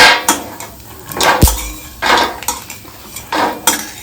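Ghee-roasted almonds are scraped from a pan onto a metal plate, giving loud, close metallic clinks and scrapes in an irregular run of about ten strikes, with no talking.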